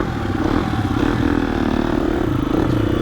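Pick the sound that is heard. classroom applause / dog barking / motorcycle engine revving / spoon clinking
motorcycle engine revving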